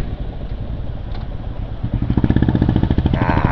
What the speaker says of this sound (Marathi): भाई, आवाज कडक आहे भाई बुलेटचा